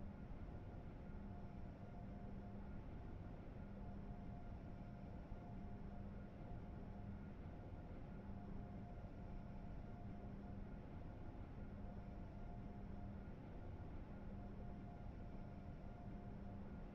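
An Amtrak Acela Express in Train Sim World 3 slows with a continuous low rumble and steady cab drone, faint pulsing tones repeating over the constant noise for the whole stretch, with no one speaking.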